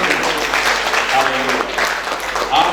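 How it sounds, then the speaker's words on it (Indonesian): Church congregation applauding at an Easter service, a dense, steady wash of many hands clapping at close range with some voices mixed in throughout. "Tepuk tangan dulu buat mereka."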